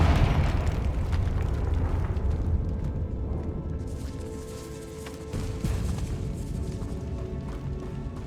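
Rumbling explosive boom from the Confringo fire spell in Hogwarts Legacy, set in a decaying catacomb, a dense low-heavy blast that rolls on steadily for several seconds with a second swell midway, loud and close.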